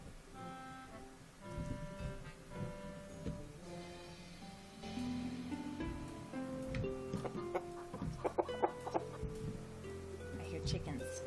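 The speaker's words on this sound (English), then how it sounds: "I hear chickens." Chickens clucking in the farming video game Fantasy Farming: Orange Season, repeated clucks and fowl calls over game music, with a person talking throughout.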